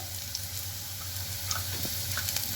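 Onions with green chili and spices frying in a pan, a steady close sizzle with faint stirring scrapes, no talk.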